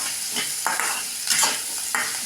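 Onion sautéing in a pan for mango curry, a steady sizzle broken by repeated stirring scrapes every half second or so, close and fairly loud.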